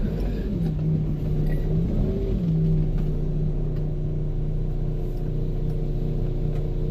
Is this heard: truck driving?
yes